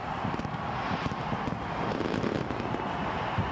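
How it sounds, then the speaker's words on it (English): Fireworks go off at a cricket ground, dense continuous crackling and popping bursts at a steady loud level without pause. "There's fireworks on outside the field and on the field."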